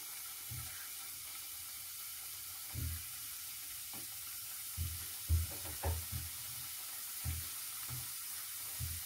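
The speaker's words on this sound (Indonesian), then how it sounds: "Ya, kita sudah menggoreng sekarang." Kue renga dough, ginger or garlic flavoured, fries in hot oil with a faint, steady sizzle and a few soft low thumps and clinks from pan handling, fairly quiet and with no talk.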